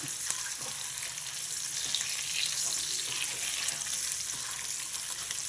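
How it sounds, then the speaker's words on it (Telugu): Eggs fry in a hot iron pan with a steady, close sizzle and crackle, punctuated by occasional small pops and soft scraping, with no voices. "ఇది ఇనుప మూకుడు కదండి, తొందరగా వేగిపోతున్నాయి చూసారా"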